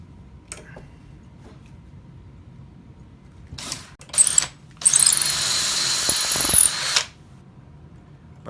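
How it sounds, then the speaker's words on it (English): A hand drill boring halfway into a wooden dowel: short whirring bursts, then a sustained, close, loud high-pitched drilling run of about two seconds that stops abruptly, with quiet gaps around it. "We drill halfway from each side, and try and hold this as straight as you can."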